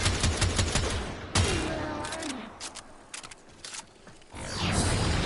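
Semi-automatic gunfire in a video game, a run of loud sharp shots with booming impacts and brief quieter gaps, dense and close throughout.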